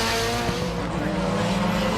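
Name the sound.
race cars racing, Audi A4 Quattro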